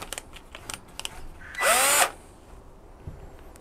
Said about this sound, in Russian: Максимальные обороты ставим, лучше даже, наверное, дрелью, чем шуруповертом.